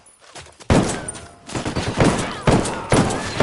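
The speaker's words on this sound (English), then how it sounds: "I'm shooting these fuckers." Gunfire in the video game Ghost Recon Wildlands: loud, dense bursts of automatic shots in a tactical firefight, several clusters rolling in one after another with no clear pauses between them.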